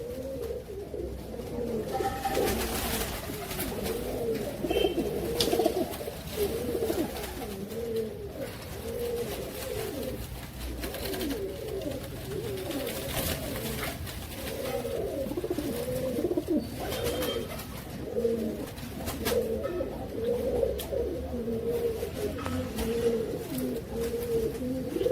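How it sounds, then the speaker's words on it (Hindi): A group of Ambarssary pigeons coos continuously, soft overlapping throaty calls close by, with occasional small clicks and rustles and no talking. "ये दोस्तों मेरे कबूतर हैं।"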